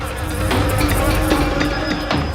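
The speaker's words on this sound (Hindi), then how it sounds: "मधुमक्खी तो तब काटती ना जब यहाँ कोई छत्ता होता।" A steady, dense insect buzz of bees fills the scene inside a house near a newly found hive, droning continuously and fairly loud with small flutters, no voices.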